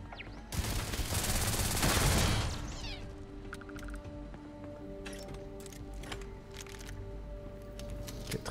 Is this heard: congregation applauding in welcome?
no